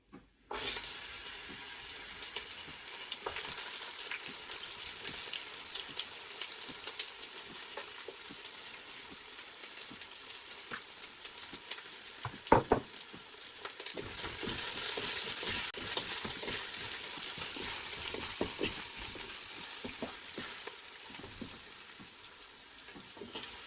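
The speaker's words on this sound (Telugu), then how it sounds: "సో ఈ బిర్యానీ ఐటమ్స్ వేగినాయి కాబట్టి ఇప్పుడు ఆనియన్స్ వేసుకుందాం" Onions sizzle in a pan for kheema dum biryani, a steady, moderately quiet frying hiss that runs throughout, with a few faint clatters now and then.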